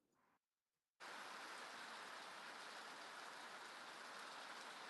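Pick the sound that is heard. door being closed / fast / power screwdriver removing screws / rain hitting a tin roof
rain hitting a tin roof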